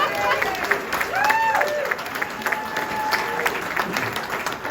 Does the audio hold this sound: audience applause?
yes